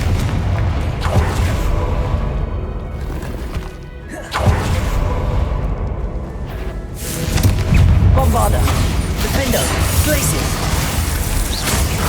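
Spell explosions from Hogwarts Legacy combat, including the Confringo fire blast, sound as repeated booming impacts and crashes over a steady rumbling game-audio bed, loud and close throughout.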